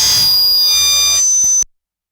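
An electronic buzzer ends a FIRST Tech Challenge robotics qualifier match in Virginia Beach, a loud, sustained tonal blare lasting about a second and a half before cutting off abruptly into silence.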